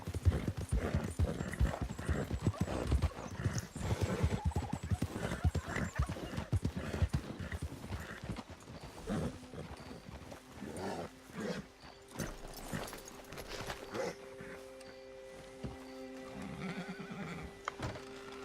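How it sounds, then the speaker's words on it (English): Steady clip-clop of horse hooves trotting in Red Dead Redemption 2, followed by a horse neighing and whinnying, with game ambient sound and no talking. "good looking horse there"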